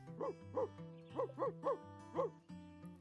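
A dog in the video game Witchy Life Story barks at birds during a walk through the woods: about six short, sharp barks in an uneven rhythm, close and clear over steady background music.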